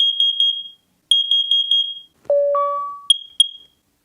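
A Google Nest Protect smoke and carbon monoxide alarm sounds its test: rapid bursts of loud, shrill beeps in two groups, then a lower two-tone chime and a couple of short high beeps, close by.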